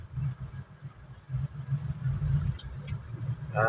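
Cars stuck for hours in a traffic jam in Santa Cruz, Laguna, caused by a collision and flooding: a steady low engine rumble of idling vehicles close by, with light surges, and no talk.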